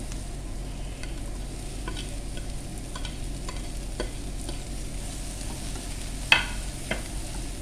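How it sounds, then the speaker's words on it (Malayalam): Okra masala is stirred in a pan over a low, steady sizzle, with scattered scrapes and a couple of sharper clinks of a spoon on metal, close and quiet, no talking. "നല്ലപോലെ ഇളക്കി യോജിപ്പിക്കാം"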